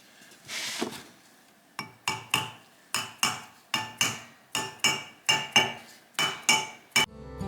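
A hammer strikes metal bearing parts on a Kubota M4900 tractor front axle, about a dozen sharp ringing metallic blows at a steady rhythm after a duller scraping knock, close and clear with no talking.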